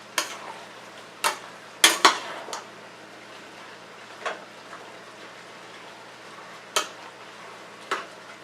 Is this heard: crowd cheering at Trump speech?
no